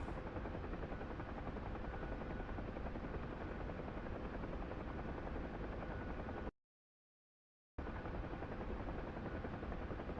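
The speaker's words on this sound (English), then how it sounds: "when I'm in the heli, the game sound and my mic get drowned out sometimes" A helicopter in the video game Arena Breakout: Infinite, a steady, dense rotor and engine roar filling the clip, cut by a brief silent gap, with no talk.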